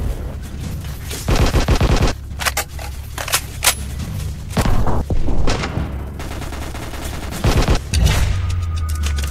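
Gunfire in the mobile shooter Anti Terrorist Squad Shooting, loud bursts of rapid shots alternating with single cracks and brief pauses, close and punchy with some booming impacts.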